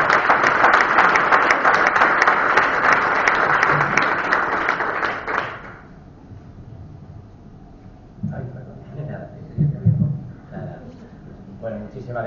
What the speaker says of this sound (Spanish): un fuerte aplauso para el doctor